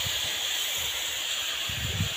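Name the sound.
water poured into hot pan, hissing, cooking smoked fish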